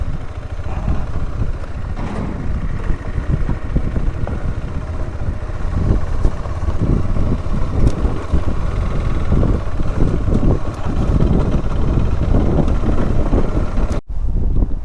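A warm breeze roars steadily across the microphone during a ride from Do Gaon to Bhujiaghat past riverside fields. The rumbling buffeting is loud and continuous, with a brief dropout near the end and no talking.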